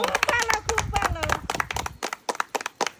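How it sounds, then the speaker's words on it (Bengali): Loud, rapid clapping from a small group for a mother during a family party game, sharp dense claps under excited voices at first, then continuing alone as crisp separate bursts. "জোরদার তালি মায়ের জন্য"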